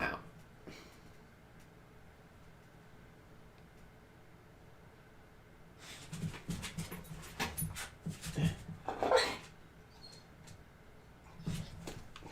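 A dog moves about a room and whimpers: faint background hiss at first, then a cluster of soft rustling, shuffling and thin whining bursts over several seconds, followed by a brief quieter flurry near the end.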